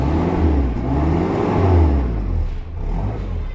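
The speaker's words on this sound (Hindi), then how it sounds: "गाड़ी का साउंड आप लोगों ने देख लिया, बहुत ही मज़ेदार साउंड है।" A 1996 Toyota Surf with a 2700cc petrol engine and automatic gearbox revs up and holds a loud, close, steady engine note before easing off and rising again, with no voices.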